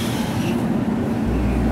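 A local train on Japan's Iida Line running steadily, with a loud continuous rumble and rolling wheel noise throughout, close and unbroken.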